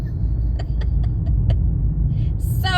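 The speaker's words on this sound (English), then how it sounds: "You see how much traffic there is." Steady road traffic on a busy route through wooded country with log homes, a continuous low engine rumble of passing cars throughout, with a few faint chirps and a brief higher whir near the end.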